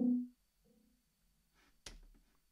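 A short techno bass hit sample thumps once, followed by a faint, quieter low echo and then a brief sharp transient near the end, all heard alone in near silence.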